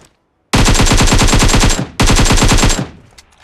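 Two long bursts of rapid automatic gunfire from the video game PUBG Mobile, very loud and close, separated by a short pause, with shell clinks trailing after.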